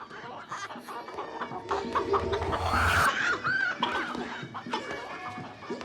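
Several chickens cluck and squawk excitedly nearby during a cockfight, with a louder rooster call rising in the middle amid general farmyard commotion.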